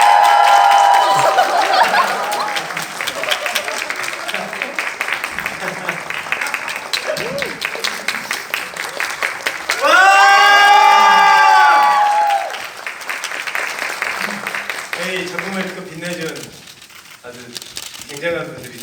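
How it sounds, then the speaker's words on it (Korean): A theatre audience at the final-performance curtain call of the musical Vincent van Gogh breaks into loud, sustained applause and cheering, with whoops rising midway and a host's amplified voice speaking over the clapping. "자 크게 박수 맞으세요."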